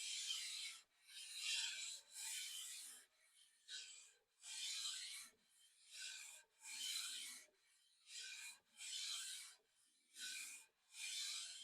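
An old hand plane slides back and forth over worn sandpaper without pressure, giving rhythmic rasping strokes, about a dozen in a row with brief pauses between them, close and clear with no talking.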